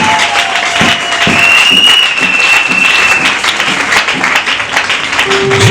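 A church congregation applauds and cheers for Jesus, with dense, sustained clapping filling the room, punctuated by whistles and shouts from the crowd.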